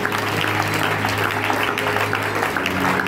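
A church congregation applauding the Lord, heard as a dense, steady wash of clapping that fills the room, with a low hum and some voices mixed in underneath.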